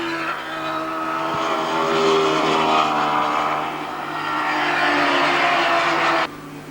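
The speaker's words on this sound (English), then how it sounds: "The under 700cc class being led by bike 29, Stephen Bestwick." Racing motorcycles in the under-700cc class of a three-hour endurance race at Surfers Paradise scream past at high speed, a loud sustained engine whine that swells and fades as the bikes pass.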